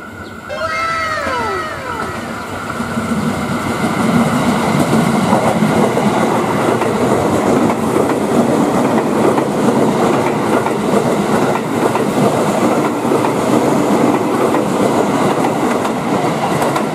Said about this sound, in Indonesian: KRL JR205 dari arah Tangerang melewati rel yang lurus sebelum menikung ke kiri.